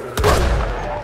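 One loud, booming gunshot from a two-shot gun in Red Dead Redemption 2, close, with a long rumbling tail dying away over about a second.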